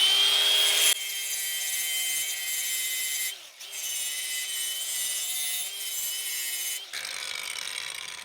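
An angle grinder works on rusty metal with a continuous, harsh, high-pitched grinding hiss and whine. It eases off briefly twice, then resumes at full strength, with no voices.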